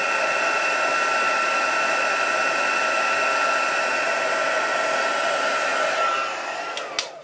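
A heat tool blows hot air from above in a steady, loud whirring hiss that holds for about six seconds, then winds down with a couple of faint clicks at the end.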